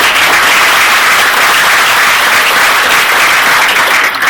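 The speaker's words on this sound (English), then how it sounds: "a round of applause for Ankur" Loud, dense audience applause fills a startup pitch event hall, steady and continuous throughout with no voices breaking through.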